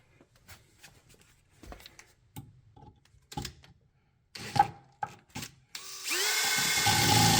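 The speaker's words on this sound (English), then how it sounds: "drill that thing out of there" Some clicks and handling knocks, then a power drill whirs up loudly and keeps running steadily at close range, drilling out a car lock on a Lincoln Continental.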